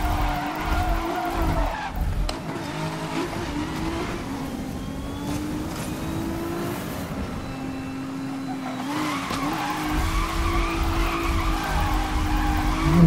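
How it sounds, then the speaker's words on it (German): A car drifting on drift tires in Need for Speed Most Wanted (2012), with sustained tire squeal and skidding over a revving engine, long continuous slides that swell and ease without pause. "Weil die driften tatsächlich ziemlich krass, aber man muss die auch dann in den Drift halten"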